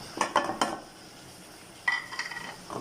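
Dry spices such as red chilli, cumin, kasuri methi, turmeric, whole red chillies, garam masala and salt tipped into a pan for white beans (lobia), with a few sharp clinks and scrapes of a spoon against the pan, then a soft stir.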